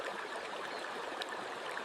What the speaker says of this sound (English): The creek rushes through a narrow channel, fast enough to make every cast count.